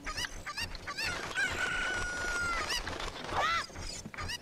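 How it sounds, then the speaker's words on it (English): Cuccos, the chickens in the video game Zelda: Ocarina of Time, cluck and crow in a quick run of nasal squawks. One longer call is drawn out mid-clip, and another sharp squawk comes near the end, all fairly loud with no talk. "Thank god you don't get punished for picking up chickens a bunch of times."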